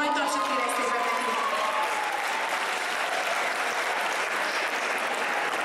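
Audience applauds an award winner at a cosplay craftsmanship results ceremony at a 2016 anime convention, with dense, steady clapping filling the whole stretch and a brief voice at the start.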